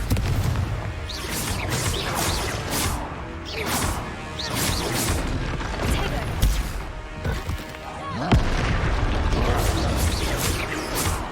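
Fiery blast spells and explosions from the Hogwarts Legacy game, a dense run of loud crashing booms and whooshes repeating over several seconds, with a voice speaking between them.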